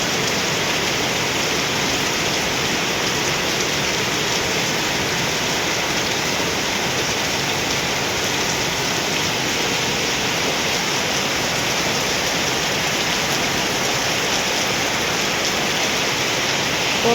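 Heavy rain pours steadily in front of a house at Xeno, a dense, even hiss of water that holds unbroken from start to finish with no voices.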